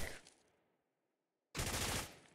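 Gunfire in the tactical shooter Ground Branch, a loud dense burst of shots that fades into near silence before another sharp rapid volley bursts in close, with no talking.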